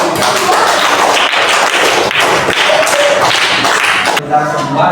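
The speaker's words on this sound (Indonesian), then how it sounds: "Tepuk tangan untuk kelompok 1." A fifth-grade Islamic primary school class claps loudly and densely for a student group, the patter filling the room for about four seconds before stopping abruptly as a voice begins.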